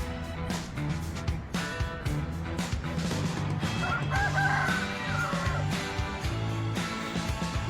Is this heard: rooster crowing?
yes